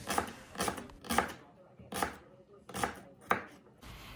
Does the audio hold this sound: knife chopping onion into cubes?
yes